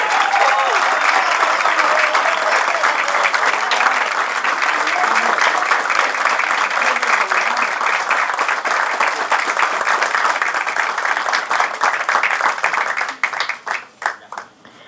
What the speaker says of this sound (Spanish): El aplauso es para ellos.